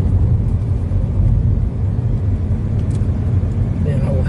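A car climbs a small country road toward a hilltop, a loud, steady, close rumble of engine and tyres heard from inside the cabin, with some talking over it.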